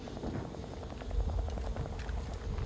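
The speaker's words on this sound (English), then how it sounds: "we've got a helicopter in the distance" In the shooter game Far Cry 5, a distant helicopter gives off a faint, steady rotor thump and rumble under broad background noise. It keeps going for the whole short stretch, and no one talks.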